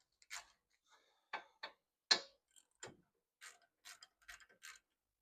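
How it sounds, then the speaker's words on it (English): A ratcheting 21 mm socket wrench loosening wheel bearing bolts on a Volkswagen GTI or Audi A3, giving short separate clicks and ratchet bursts with quiet gaps between, close and fairly faint, no speech. "21 millimeter sockets, and I'm gonna go ahead and start loosening this"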